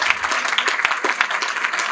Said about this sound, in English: Let's give a round of applause for all of those performers in that genre.